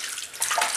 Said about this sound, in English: Rinse hands. Empty sink.